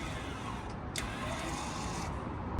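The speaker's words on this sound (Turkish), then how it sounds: "Şimdi motorları geri itekliyor" Electric parking brake motors on a car's rear brakes whir steadily as they push the caliper pistons back, a continuous close mechanical hum with a brief click near the start and a thump at the end.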